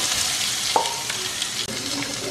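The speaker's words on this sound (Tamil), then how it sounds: "வெங்காயத்தை வந்து போட்டுட்டு ஒரு 2லேருந்து 3 நிமிஷம் வதக்கிடலாம்." Sliced onion sautés in a pan with a continuous loud sizzle, broken by a few spatula scrapes and a soft knock against the pan.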